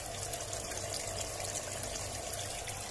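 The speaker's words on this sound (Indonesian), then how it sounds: "Ini ketinggian kurang lebih 1 meter ya. 1 meter kucuran airnya kenceng." Strong, steady gush of water pouring from about a meter high off a Hikari PSP 2300Z submersible pump, a continuous close splashing rush with no pauses and no talking.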